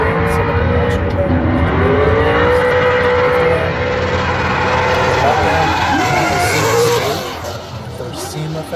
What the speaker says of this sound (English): They've got this section set up for drifting.